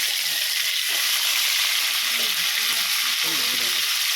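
Crab pieces and legs frying in hot oil in a pan, a dense, constant hissing sizzle with light stirring scrapes, close and loud from start to finish.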